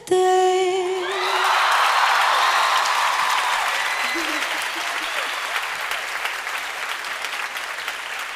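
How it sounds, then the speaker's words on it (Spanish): A theater audience at a live concert at Teatro Maipo breaks into loud, sustained applause and cheering after a held sung note, with a voice speaking over the clapping. "¡Fuerte el aplauso!"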